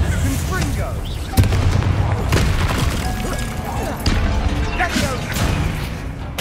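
Confringo blast spell cast in the video game Hogwarts Legacy, set in catacombs, heavy booming explosive bursts amid dense continuous battle noise, loud and close, with voices talking over it.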